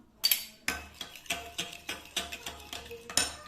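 Metal whisk or spoon clinking rhythmically against a bowl while fish qorma mixture is beaten with ginger garlic paste, a steady run of close, sharp taps.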